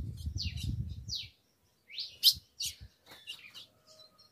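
Female ultramarine grosbeak calling in an aviary, a few sharp high chirps and short tweets after a brief low rumble, close and clear with no talking.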